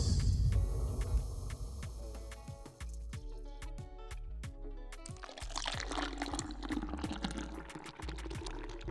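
Guinness beer pours into an angled glass during a commercial shoot, a steady liquid rush that grows fuller in the second half, with sharp clicking ticks throughout.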